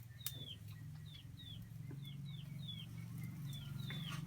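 Chickens give a faint series of short, high, downward-sliding calls at a fairly regular pace over a low, constant background hum.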